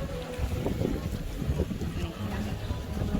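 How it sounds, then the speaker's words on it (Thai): Strong wind roars across a speedboat at sea off Pattaya, with heavy buffeting against the microphone over the boat's churning rumble and water noise, loud and continuous. "ลมแรงมากครับ"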